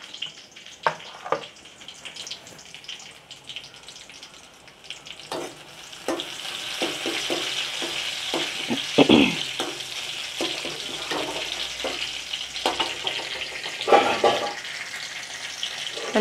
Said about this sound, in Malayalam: എണ്ണ ചൂടായി അതിൽ ഒരു ചെറിയ ഉള്ളി ചെറുതായിട്ട് അരിഞ്ഞ് ഇട്ടിരിക്കും